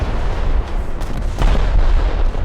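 Main battle cannon on the Harpy firing in War Thunder's April Fools 2077 event, heard as dense, heavy booming blasts with a louder burst near the middle, loud and close with no talk over it.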